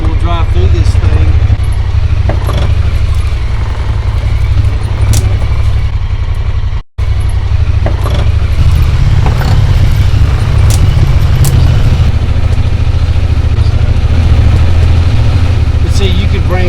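A car rolls slowly over a rocky farm road and through a portico, its engine a steady low drone with gravel crunching beneath, while someone talks over it throughout.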